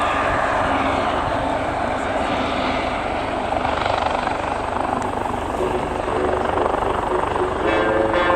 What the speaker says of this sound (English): here comes the KC-135 coming across once more with the boom down